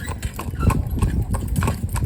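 A cob pony's hooves clip-clop in a steady rhythmic series of close, hollow strikes, with an engine-like rumble underneath throughout.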